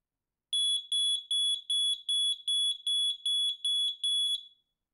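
A Zigbee smoke detector sounds its alarm during a smoke test, ten loud, evenly spaced shrill piercing beeps in a rapid steady rhythm, heard close and alone with no talk.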